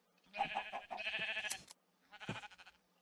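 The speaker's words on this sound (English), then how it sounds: "Okay, so this is the sheep area." Sheep bleating in the Minecraft video game: two wavering, nasal bleats close together, followed by a third shorter bleat after a brief pause, clear and close with no talking.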